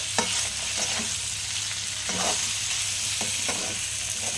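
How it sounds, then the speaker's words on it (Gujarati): Spiced dry potato bhaji being mixed in a pan: a soft steady sizzle with a handful of distinct spatula scrapes and stirring strokes at irregular intervals, close up and with no voices. "આ બધું મિક્સ કરી દઈશું આપણે,"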